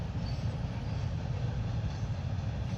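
A train rolls by at a steady low rumble, its wagons grinding on the rails in a continuous dense roar with faint squeal near a calm waterway used for rowing races.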